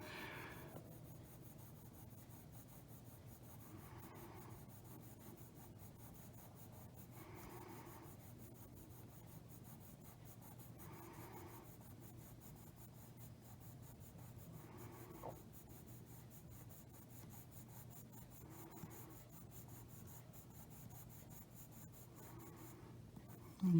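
Colored pencils layering and blending red and another color on paper make a steady, faint scratchy rubbing with soft repeated strokes, close up and with no talking.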